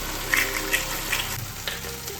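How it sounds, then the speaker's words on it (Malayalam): Soy, chilli and tomato sauces stirred into chilli chicken in a hot pan, a steady close sizzle with wet stirring and scraping throughout, no talking. "ഈ സോസ് എല്ലാം കൂടി നന്നായിട്ട് മിക്സ് ചെയ്യുക."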